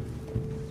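Horse hooves in Red Dead Redemption 2, a short steady rumble of a mount stalling rather than moving, with one slightly louder thud midway through a low, even bed of sound.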